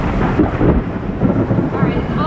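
Thunder from a storm around a boat moored off Ibiza rolls in a loud, close, continuous rumble with a hint of rain beneath it.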